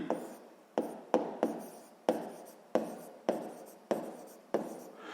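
Pen strokes scratching across paper while an equation's solution is written out, coming as a series of about nine short bursts of scribbling, each fading off, close up with no voices.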